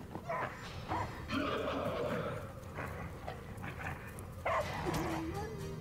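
A dog-like beast in the fantasy video game Divinity: Original Sin gives several snarling, yelping barks and growls mixed with combat effects, moderately loud with pauses between bursts.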